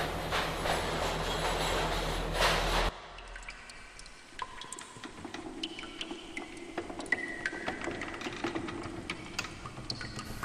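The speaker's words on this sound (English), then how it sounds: "The doors open and the compressors start to throb." A subway train at a dark, out-of-service station sits under a loud, dense rumble that cuts off abruptly, then gives way to quieter mechanical clanks, hisses and intermittent tonal whines in a dank, echoing space.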